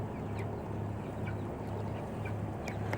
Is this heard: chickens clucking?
yes